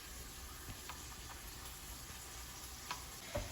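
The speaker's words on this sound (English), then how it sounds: "As my patties are frying" Burger patties frying in a pan give a steady, faint sizzle throughout, with a couple of slightly louder pops or clicks near the end.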